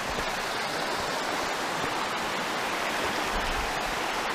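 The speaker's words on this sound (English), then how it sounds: "Yeah, that's the rapids." Steady, full rush of creek rapids on a rainy camping trip, a continuous close wash of tumbling water with no pauses and no voices.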